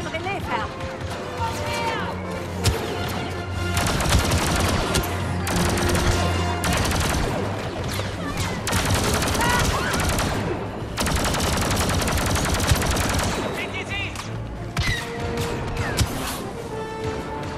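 Star Wars Battlefront 2 blasters and gunfire crackle in dense, sustained volleys with crashes mixed in, loud and continuous, while voices speak over the fighting.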